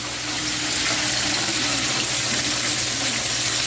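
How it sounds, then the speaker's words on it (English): Steady, close sizzling of food frying in hot oil, a dense crackling hiss that holds constant throughout with no talking. "It's frying up good."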